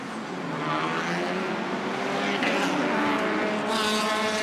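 Race cars pulling away at the start of a Malaysia Championship Series circuit race, a loud, sustained blend of revving engines heard from nearby with no gaps, while a commentator talks over it.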